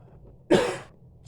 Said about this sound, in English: Excuse me, there's that cough.